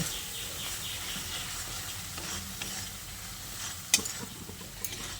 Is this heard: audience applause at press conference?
no